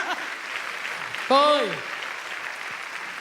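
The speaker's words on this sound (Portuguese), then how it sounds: "Pode aplaudir!" An audience applauds during a church preaching session, a steady wash of clapping throughout with a brief cheer rising out of it midway, while a voice speaks over it.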